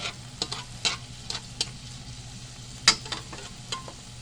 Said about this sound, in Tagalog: Ilungan tuyo. Okay, gisa-gisa lang guys, gisa-gisa lang.